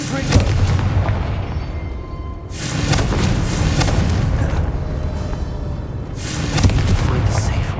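Explosive Confringo spell blasts in Hogwarts Legacy, heavy booming thuds landing in repeated bursts with rumbling low-end tails over continuous game ambience.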